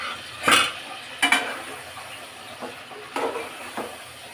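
Lentils tipped into a pot of braised chicken bones, with a couple of sharp clattering splashes and a soft sizzle, followed by lighter scraping and stirring knocks, fairly close.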